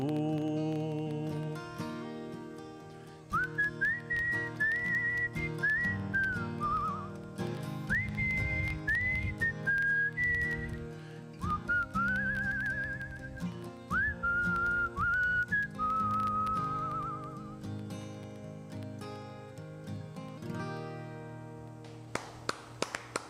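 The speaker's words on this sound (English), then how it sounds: "Great whistle." A person whistles a melodic tune with bending, sliding notes over a backing of strummed guitar and music, clear and close, without speech.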